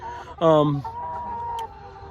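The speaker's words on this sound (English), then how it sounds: "these hens actually have hit the chicken lottery when it comes to where they get to spend their life and do their work" Pastured hens cluck on a farm, with one loud, close squawking call followed by softer, lower clucks and background farm noise.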